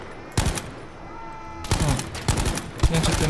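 Gunshots ring out in the video game Battlefield V as several sharp, loud reports fire close by in uneven bursts, with a short quieter gap between them.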